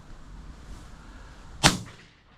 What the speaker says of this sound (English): He's going to have to shoot him as he goes over.